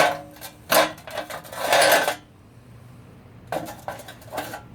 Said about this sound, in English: I'll set it down on this pan here.